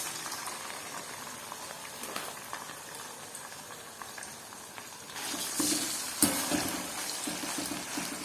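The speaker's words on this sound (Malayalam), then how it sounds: "അപ്പോൾ നമുക്ക് ഓയിലിലേക്ക് മീൻ ഇട്ട് കൊടുക്കാം കേട്ടോ. കുറച്ച് ഇട്ട് നമുക്ക് ഫ്രൈ ചെയ്തെടുക്കാം." Fish pieces frying in oil for pickle, a soft bubbling sizzle that swells louder midway with crackling spatters, no voices.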